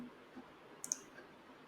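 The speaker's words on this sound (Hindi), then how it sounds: "सेव बटन पे मैंने क्लिक कर दिया" A single mouse click on a save button in a web store builder, a brief close tick standing alone over faint room hiss.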